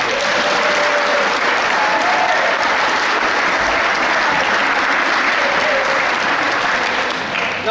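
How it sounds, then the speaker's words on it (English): A book launch audience in Dublin applauds steadily and loudly throughout, a dense wash of many hands clapping with no break and no talk over it. "I think they deserve a round of applause as well."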